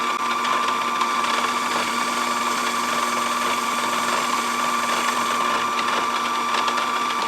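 A mini-lathe runs at about 1,000 RPM as a carbide insert tool (CCMT/DCMT) cuts, producing a loud, constant whine and grind that holds steady without slowing.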